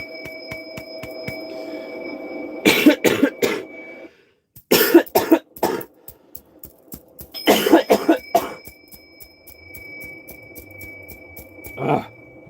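Several harsh, hacking coughing fits in clusters, close and loud, with quieter pauses between and a faint ringing tone in the background.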